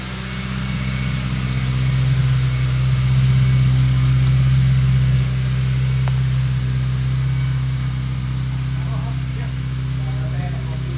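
A tuned 2008 Honda Jazz i-DSI engine runs steadily at idle, a low constant hum close by that holds even throughout, with faint background noise.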